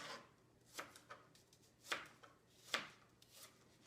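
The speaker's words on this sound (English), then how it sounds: "And then I just simply cut it into more pieces" A knife cuts an apple into pieces on a board, giving a few soft, separate chopping taps spaced unevenly, quiet and close.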